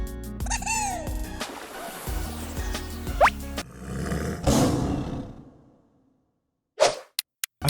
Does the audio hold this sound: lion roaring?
yes